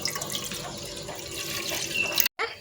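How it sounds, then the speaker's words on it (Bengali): Water poured into an idli steamer pot, a close, steady splashing stream that runs for about two seconds before stopping abruptly, followed by a brief dribble. "জল দিয়ে দিচ্ছি।"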